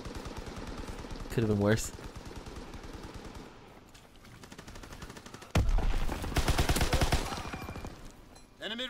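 A mounted machine gun in Call of Duty WWII fires in rapid, rattling bursts, one long sustained burst standing out loud and close, while someone talks over the battle noise.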